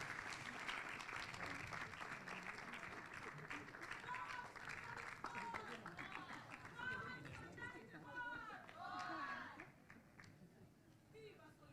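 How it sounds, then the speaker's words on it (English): An audience at the 10th Human Rights Defenders Awards ceremony applauds a commissioner being honoured, with sustained dense clapping throughout, voices and cheers rising within it, then fading near the end. "A big round of applause for him."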